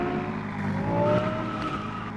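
A revving car engine with squealing, skidding tires in the Roblox game Vehicle Simulator, a steady loud whine of motor and rubber throughout.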